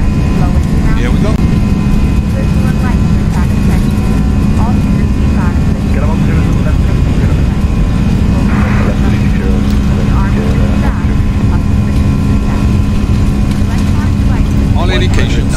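An Airbus A319 rolls down the runway for takeoff on flex thrust, its jet engines a loud, steady roar with a constant tonal hum. Cockpit voices talk intermittently over the engine noise.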